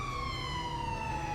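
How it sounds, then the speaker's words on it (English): An ambulance siren in the GTA V LSPDFR video game, a loud continuous wail with steady sliding tones, heard alone without talk. "While we wait, we'll just go ahead and aimlessly stare at this guy while the ambulance comes in."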